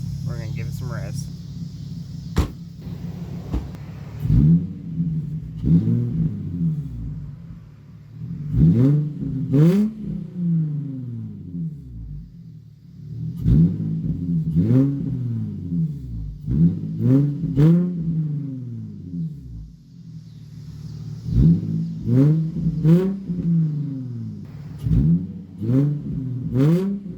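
A 2005 Infiniti FX35 engine fitted with a Cherry Bomb glasspack exhaust revs up repeatedly in loud, rising bursts, a steady idle rumble underneath and brief pauses between the blips.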